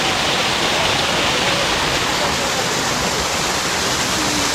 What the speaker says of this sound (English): Where the waterfall is coming out here.